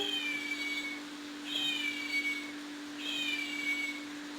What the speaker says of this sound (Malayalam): കുഞ്ഞുനാവ് പൊള്ളിയപ്പോൾ കുഞ്ഞു പൂച്ച കേണു